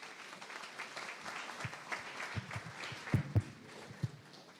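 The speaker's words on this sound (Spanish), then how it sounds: "Lo recibimos con un fuerte aplauso" Applause from a university conference audience welcoming a research speaker, faint and distant, a soft continuous patter with a few louder nearby claps.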